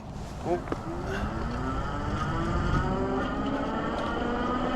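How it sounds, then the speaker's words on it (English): A Retrospec Chatham Rev Plus e-bike accelerates on throttle from a standstill to 20, its motor whine rising steadily in pitch over several seconds amid wind and road noise. "we are here on the Retrospec Chatham Rev Plus to do a throttle acceleration test from 0 to 20"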